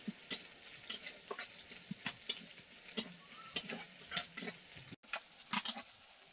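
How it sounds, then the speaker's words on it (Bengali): Chopped onion and crushed garlic fry in oil with a soft background sizzle, broken by repeated sharp scraping taps of a spatula stirring the pan at close range. "পেঁয়াজের কুচি, থেতো করা রসুন, পেঁয়াজ রসুনটা লাল লাল করে ভেজে নেব"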